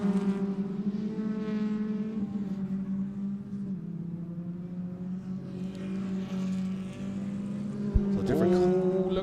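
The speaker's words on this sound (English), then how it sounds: "Peter Williams, Roger Donnan and Mike Turner still battling away and still very quick" Historic race cars lap a racing circuit, their engines blending into a steady, droning roar whose pitch shifts slightly as they pass, heard at moderate distance.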